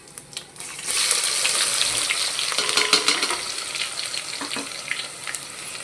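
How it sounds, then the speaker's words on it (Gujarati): Onion sizzles and fries in hot oil with cumin and garam masala, a steady crackling hiss that starts after a few clinks and carries on with occasional stirring scrapes. No voice is heard. "એ થઈ જાય ને એટલે એની અંદર નાખશું આપણે આપણી ડુંગળી."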